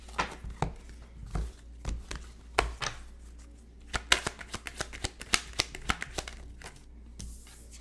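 A deck of Evil Eye Oracle cards being shuffled by hand, with bursts of quick riffling and flicking card snaps, sparse at first and then rapid and crisp in the second half, close and with no talking.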